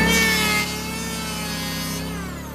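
A Wen power tool tapers the end of a piece of wood, giving a steady, close, loud motor whine with grinding and sanding noise that eases slightly after the first half second.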